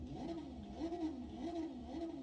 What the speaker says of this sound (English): Let's rev up the bike.